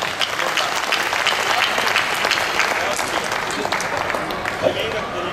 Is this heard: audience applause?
yes